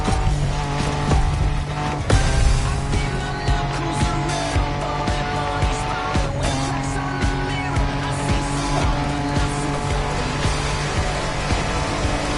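Off-road car racing in The Crew Motorfest, a loud steady engine drone with tire squeals and skidding, close and continuous throughout, layered with in-game music.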